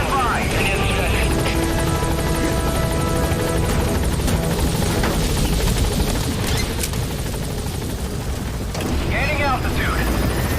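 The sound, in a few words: helicopter departing in Metal Gear Solid V video game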